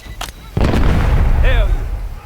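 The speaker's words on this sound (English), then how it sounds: "They pop smoke, get ready." Smoke grenades pop in the Call of Duty: Black Ops 6 campaign, a sudden loud burst followed by a sustained hissing rush with a short whistling sweep over it, near and dominant, with voices briefly heard.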